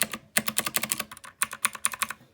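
Typing on a Motospeed CK61 budget mechanical keyboard with a loud, non-clicky spacebar, heard as close, crisp bursts of keystrokes in quick irregular runs with brief pauses between them.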